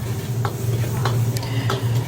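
Thai garlic sizzles steadily in a hot pan while a utensil scrapes and taps the metal a few times.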